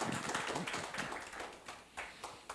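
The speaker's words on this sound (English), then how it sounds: "A big round of applause" A forum audience applauds to welcome the moderator and panelists at a global health and welfare forum, a dense patter of many hands clapping close by that thins out over a couple of seconds.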